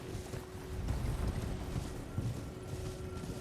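Spectral steed's hooves in Elden Ring, a steady galloping clip-clop of the ghostly horse over a low rumbling game soundscape, continuous and moderately loud throughout.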